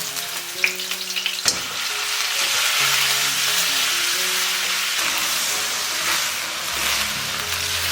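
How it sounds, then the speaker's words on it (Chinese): Duck meat stir-fried in hot oil with ginger slices makes a loud, steady hissing sizzle, with a few clattering knocks of the spatula near the start and shifting texture as the pieces are tossed. "起锅热油一些爆香姜片， 然后加入鸭肉煸炒"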